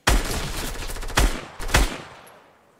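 Gunshots from a shooting video game fire in loud, close bursts, with a rapid stuttering volley followed by two sharp single cracks and a brief lull.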